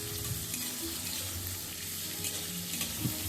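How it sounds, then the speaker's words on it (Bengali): Potatoes frying in a wok with dried chillies, giving a steady close sizzle with occasional stirring scrapes throughout and no voices. "শুকনো লঙ্কা দেওয়ার পর এবার আমি কড়াইতে আলুগুলো দিয়ে দিচ্ছি।"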